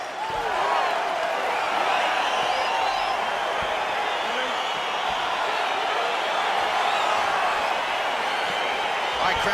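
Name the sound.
crowd cheering at a fight in UFC 4 video game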